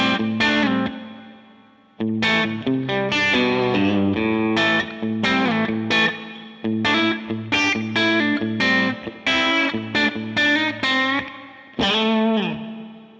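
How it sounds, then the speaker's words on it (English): A distorted electric guitar through a Line 6 Helix plays chords and riffs with a spring reverb placed after the amp model, close and loud, with notes ringing out briefly between strummed phrases. "Here it is after the amp."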